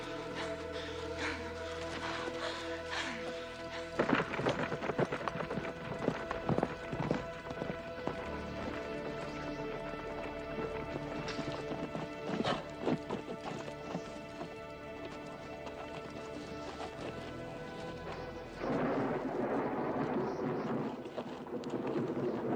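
Horses, including a pack horse, clip-clop steadily in a 1988 Western film scene, with their hooves thudding in a continuous rhythm over a dense, rumbling background that rises and falls throughout.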